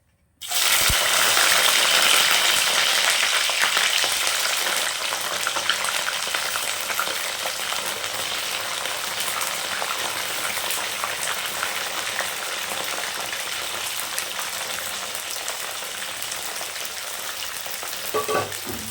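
Brinjal pieces fry in a pan of hot oil for a recipe, giving a loud, steady sizzle and crackle that starts abruptly and holds throughout, with occasional stirring scrapes and no talking.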